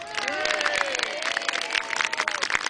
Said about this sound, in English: can I hear a big, loud cheer and a big round of applause for the Trebuchet walkers?